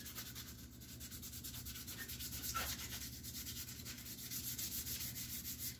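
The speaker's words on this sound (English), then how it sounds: "we'll just sand this up, make it nice and scuffed again for that last layer of paint" A Guitar Hero guitar faceplate is scuffed with 320 grit sandpaper, a continuous close rhythmic rubbing hiss with steady back-and-forth strokes and no pauses.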